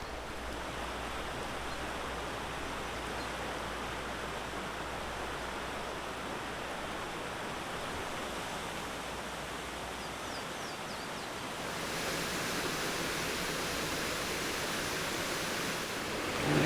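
A mountain stream tumbling over waterfalls in North Carolina in early spring, heard as a steady, full rush of flowing water close by. It continues alone without talk and grows slightly louder near the end.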